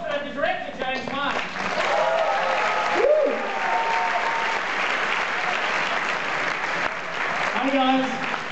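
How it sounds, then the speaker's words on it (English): A theatre audience at a TIFF Midnight Madness screening applauds director James Wan, dense sustained clapping and crowd noise filling the room, with a voice speaking over it at the start and end. "Give me a round of applause for the director, James Wan"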